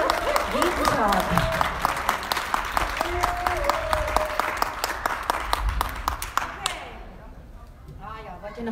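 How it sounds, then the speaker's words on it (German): Audience applause at an outdoor balcony concert in a Freiburg garden, sustained clapping with cheers and a voice or two over it, fading out near the end as a quieter voice speaks. "Also vielleicht nochmal einen großen Applaus nach Landwasser in Freiburg."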